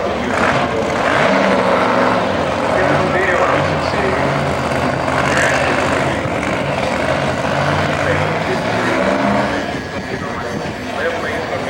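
Pro Mod drag racing cars at a Houston drag strip, 813-cubic-inch engines run carbureted on nitrous or on alcohol, give a loud, steady engine roar throughout, with a track announcer talking over it.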